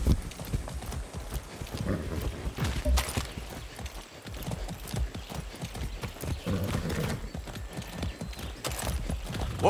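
Horse hooves clip-clop steadily in Far Cry 6, a continuous close rhythm of footfalls with occasional snorts from the game horse and light background game sound throughout.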